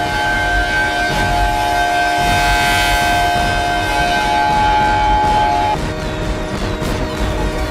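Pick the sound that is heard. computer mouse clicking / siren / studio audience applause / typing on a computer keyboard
siren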